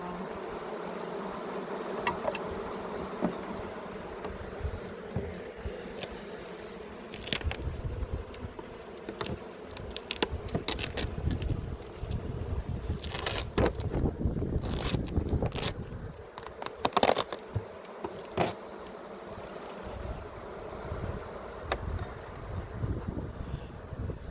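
Dense buzzing of a honeybee swarm, loud and close, rising and falling with occasional bees zipping past the microphone and light wind noise.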